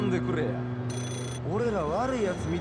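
A payphone rings in the video game Yakuza 0: one short, high electronic ring burst over game music, with voices talking through the clip.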